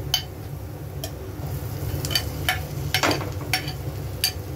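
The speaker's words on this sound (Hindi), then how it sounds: "आलू को मिलाएंगे।" Potatoes stirred into a spiced frying mixture in a pan over medium flame, a low steady hiss beneath about a dozen sharp scraping clicks of a spoon against the pan at an uneven pace.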